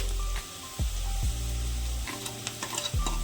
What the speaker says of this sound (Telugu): ఇప్పుడు చాలా బాగా బ్రౌన్ కలర్ వచ్చేంత వరకు మనం ఫ్రై చేసుకోవాలండి